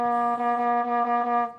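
A trombone with a Pixie mute holds one steady, bright, nasal note for about a second and a half, then cuts off cleanly.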